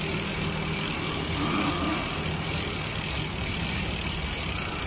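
A bicycle crank spun backwards sets the freewheel ratchet clicking in a fast, continuous, even stream of small metallic ticks, close by and steady throughout.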